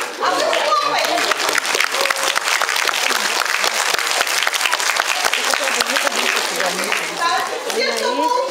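Children applauding at a youth theatre celebration for Children's Day, dense sustained clapping from many small hands, loud and close, with an adult voice and chatter mixed in.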